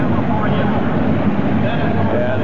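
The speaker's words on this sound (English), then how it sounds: "And there you can hear the engine in the background," A 1,550-pound class mini pulling tractor's engine runs in the background at a 1986 tractor pull, a continuous rumbling drone under a commentator's voice over the arena.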